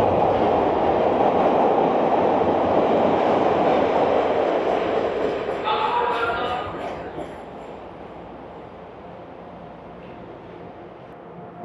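A Chicago train pulls into a downtown station with a loud, steady rumble and rolling wheel noise. Brakes squeal briefly before the roar fades to a quieter hum as the train slows and stops.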